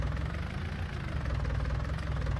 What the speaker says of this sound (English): Use this loader tractor to pull out all these fence posts.